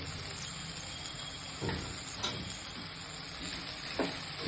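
Raw banana frying in a pan with turmeric and salt, giving a steady, close sizzle and hiss, with a few soft scrapes and knocks as the pieces are stirred and turned.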